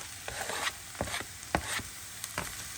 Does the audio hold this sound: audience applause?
no